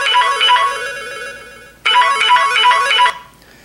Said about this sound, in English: That's a default ringtone.